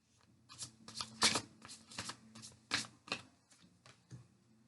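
Tarot cards are riffled and shuffled by hand in a string of quick, crisp bursts with short pauses between them, close and clear, with no talking.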